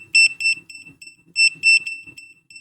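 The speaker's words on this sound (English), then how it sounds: "it's got an LED and the buzzer" Continuity-test buzzer on a Gochifix LG303 oscilloscope, multimeter and signal generator, beeping in quick uneven bursts as the probes make and break contact, sharp and close, with faint low rumbles between beeps.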